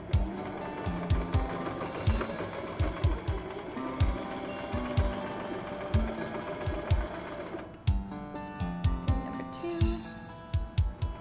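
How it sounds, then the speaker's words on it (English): A sewing machine runs steadily as it stitches curtain fabric, its needle clattering in a fast, even rhythm up close, with a short pause and a change of pace midway before it resumes. "And we're sewing."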